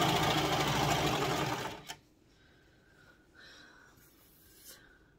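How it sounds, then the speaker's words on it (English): Serger stitching a fabric strip for a scrunchie whirs loudly and densely for about two seconds, then cuts off, leaving faint handling rustles and small clicks. "I'm using my serger for this."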